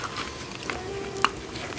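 Spicy chicken and nachos bitten and chewed close to the mic, a sharp crunchy bite standing out amid soft wet chewing, brief and intimate.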